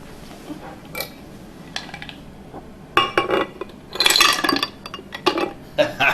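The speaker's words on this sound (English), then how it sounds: "Well, so now we need 6 ice cubes." Six ice cubes dropping into a blender jug for a banana smoothie make scattered hard clinks and clatters, sparse at first and then a denser, louder burst of knocking near the end, with no talking.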